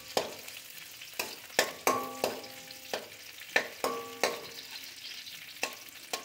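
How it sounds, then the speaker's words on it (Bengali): Raisins fry in ghee in a wok on a low flame. A soft sizzle runs underneath while a utensil scrapes and taps the metal pan at a steady, unhurried pace, some strikes ringing briefly. "আমি কটা কিশমিশ ঘি দিয়ে দিয়েছি কড়ায়, ঘিয়ের মধ্যে ভেজে তুলে রাখছি।"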